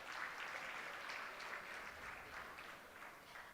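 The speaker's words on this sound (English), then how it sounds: "So once again, applause for Abhinaya and the future performers of the night." Quiet, steady applause fills a hall at an annual fundraising gala after a dance performance, sounding fairly distant and continuous.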